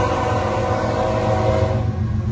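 A BNSF freight train headed by a triple locomotive lash-up in New York rumbles past with a sustained, loud diesel drone and a tonal horn-like hum, continuous and fairly close.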